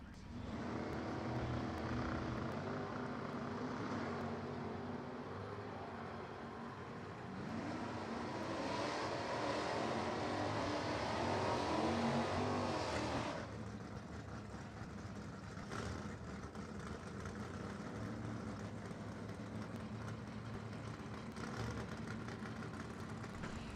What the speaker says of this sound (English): here's Troy Olsanowski and Mike Graham to kick off the pairs in Super Stock. The Malibu left is Olsanowski